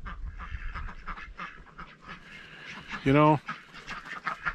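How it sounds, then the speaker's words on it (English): A short burst of loud duck quacking cuts in midway, while a person talks before and after. "The ducks are gonna go wild."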